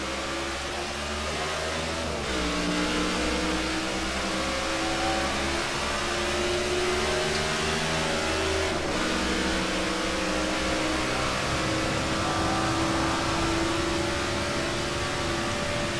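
Race cars in the NASCAR '15 video game accelerate on a restart at Charlotte Motor Speedway during the All-Star race, a continuous droning engine roar with rising pitch sweeps as gears shift, steady and close.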